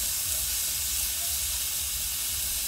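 Tomatoes go into a pan of lightly browned frying onions, setting off a steady, close hiss and sizzle that holds evenly throughout with no talking.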